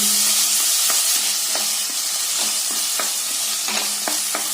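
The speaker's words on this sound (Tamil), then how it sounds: "நல்லா சேர்த்து இந்த ஆயில நல்லா வதக்கி விடுங்க" Tomatoes and onions fry in oil for a kara kulambu, a bright hiss running throughout while a spoon taps and scrapes the pan at irregular intervals, close and alone.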